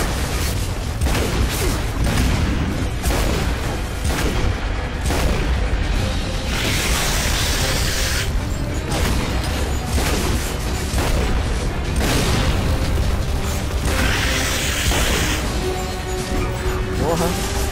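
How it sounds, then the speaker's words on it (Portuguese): Repeated sharp revolver gunshots in a video game boom over continuous loud game noise and talking, with a couple of heavier blasts standing out. "o tiro do oitão geralmente destroça, mano"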